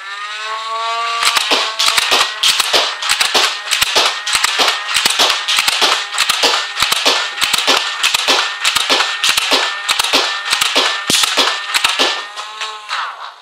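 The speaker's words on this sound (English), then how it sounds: "now we'll do a cyclic rate test to see how quickly it goes through 18 shots" A modified Nerf Nitron blaster, rewired with its resistors removed and voltage upgraded, fires 18 darts in quick succession, a loud, close, rapid mechanical clatter of evenly spaced sharp shots, alone.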